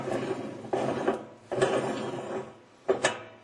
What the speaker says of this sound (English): You will have to turn the spanner nut wrench clockwise to remove the clamping nut